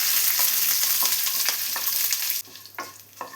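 Dried red chillies and curry leaves fry with mustard seeds in hot oil for a chutney tempering, a loud close sizzle with popping crackles that suddenly drops to a quieter spatter with a few sharp pops.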